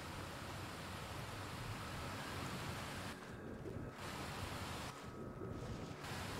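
Steady broadband rush of a waterfall in the video game Skyrim, a continuous roaring wash of falling water that briefly drops away twice, with no talk.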